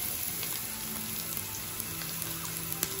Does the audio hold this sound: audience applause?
no